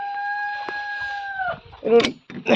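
Bahamas chickens cluck close by in short, choppy bursts, following a long, drawn-out call at the start.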